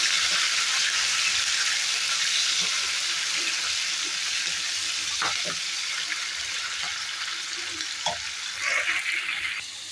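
Green chillies frying in a pan for a tomato and brinjal curry give a steady, close hiss and crackle of hot oil throughout, with occasional light clinks of stirring.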